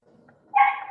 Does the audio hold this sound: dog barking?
yes